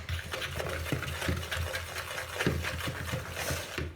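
Cake batter stirred in a bowl produces a continuous soft scraping swish with irregular light clinks of utensil against the bowl, close and fairly quiet, with no voices.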